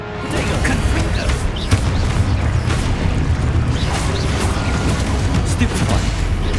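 Confringo blast spells going off in Hogwarts Legacy, a dense continuous barrage of booming explosions and crackling bursts, loud and sustained throughout.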